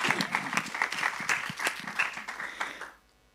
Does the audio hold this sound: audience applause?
yes